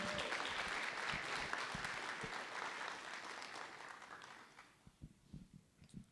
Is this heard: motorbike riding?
no